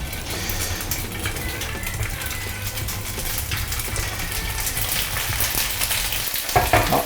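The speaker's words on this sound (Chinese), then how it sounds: "好，接下来我们倒点油，把这个萝卜糕煎一下，" Slices of radish cake pan-fry in oil in a frying pan, giving a steady, close sizzle throughout, with a few light clinks near the end.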